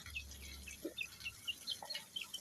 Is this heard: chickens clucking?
yes